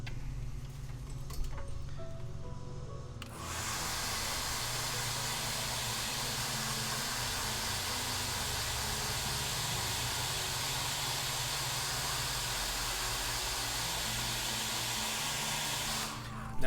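A steady, loud hiss of a dryer blowing on a freshly painted layer of a miniature figure starts after a few seconds and runs on continuously, close and unchanging, before cutting off at the end.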